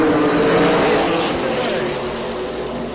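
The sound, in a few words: NASCAR race cars at green flag start, Tucson Speedway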